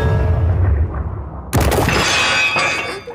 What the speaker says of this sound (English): So if this is the sound that the Dragon Slayer makes, a giant hunk of metal against the body of a young girl